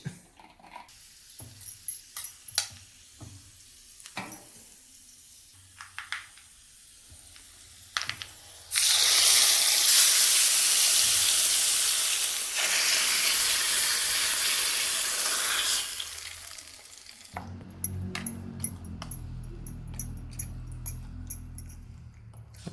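Spices tempered in hot oil for a special chutney burst into a loud, hissing sizzle that holds for several seconds before dying down, with quieter kitchen clatter and knocks before and after.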